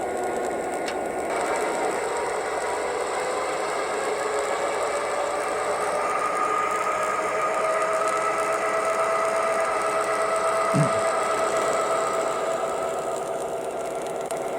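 A train video game's locomotive engine rises from idle to a higher notch, a steady mechanical drone with tonal whine gradually climbing in pitch, plus a brief click partway through.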